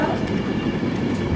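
Virgin Trains class 390 electric train working a service to London Euston, arriving at Wigan North Western station, a steady close rumble of wheels and traction with no clear clicks, continuous and fairly loud.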